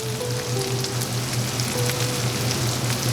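Minced garlic sautéing in a pan for spaghetti bolognese, a dense, constant sizzle close up with a low steady hum underneath, no voices.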